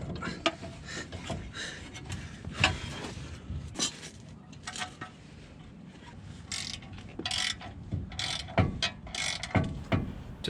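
A ratchet tightens a new ball joint nut on a car's suspension, with a series of quick, close clicking bursts and metallic mechanical rattles spread across the clip.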